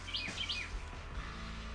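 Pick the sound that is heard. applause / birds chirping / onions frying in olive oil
birds chirping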